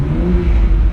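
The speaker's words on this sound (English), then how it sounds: "it definitely moves. It's the twin turbo engine" A 2008 BMW 135i convertible's twin-turbo engine revs hard at close range, a loud, rough low rumble building steadily for a moment.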